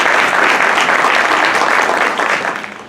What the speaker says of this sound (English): let's give a round of applause to K-9 officer Isaiah Mandalora.